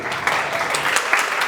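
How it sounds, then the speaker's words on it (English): An audience at a creativity conference applauds, a brief burst of dense, even clapping that is loud and continuous from start to finish. "can we please thank and give a round of applause for Maxon and Aiden."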